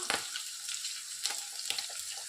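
Chopped onions and tomato sizzle and fry in a hot pan for gobi fried rice, a steady crackling hiss with a few louder spits and stirring pops, close and continuous without talk.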